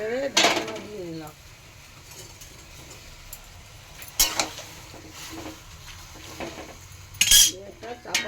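Malabar spinach stirred in a cooking pot before the lid goes on: sharp metallic clinks and scrapes up close at the start, a quiet stretch, then further clanks as the lid is set down.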